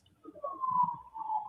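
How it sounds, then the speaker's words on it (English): Police siren wailing faintly in the distance near a house on King Road at night, a single steady tone drifting slightly in pitch over low background rumble. "That's a siren."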